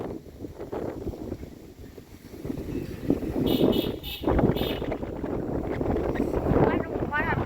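Wind gusts outdoors under a dark, overcast sky, buffeting the microphone in rough, uneven surges while a person talks over it.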